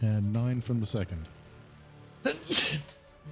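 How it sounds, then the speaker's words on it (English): A single short, sharp sneeze bursts out near the end, following a man's brief speech during a tabletop role-playing game session, then the room falls quiet. "Then the monster sneezed."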